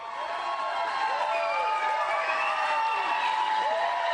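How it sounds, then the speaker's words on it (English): A loud studio crowd at a live Kid Rock television show cheers and whoops continuously, dense shouting voices sustained throughout at close range with no pause. "I don't think he can hear us because the crowd's so loud."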